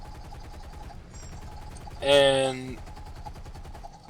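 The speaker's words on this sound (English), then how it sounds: "So now I'll start manning the gun myself because my gun is crap" A bomber's defensive gun fires a short burst in the flight combat game War Thunder, a loud rattling volley that rises briefly over steady engine drone, with a single spoken word just before it.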